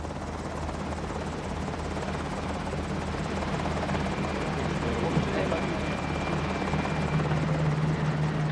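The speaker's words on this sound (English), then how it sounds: "Cousteau, after a jet flight from France, is shuttled by helicopter to the bow of Calypso." A helicopter's steady, loud rotor drone runs unbroken the whole way through, heavy and close, as it shuttles a passenger to the bow of the ship Calypso.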